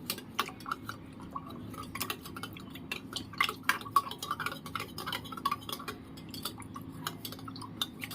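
A spoon stirs masala buttermilk (chaas) with pepper powder in a vessel, giving a steady series of light clinks and scrapes against the container with a soft liquid swish, close and alone without talk.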